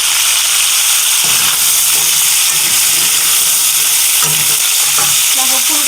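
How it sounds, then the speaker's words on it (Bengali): Cauliflower, green beans and carrot sizzle and fry in a hot pan, with a steady crackling hiss throughout and occasional scraping, clattering stirs of a spatula. "এরকম একে একে করে সবজিগুলো ভেজে নেব"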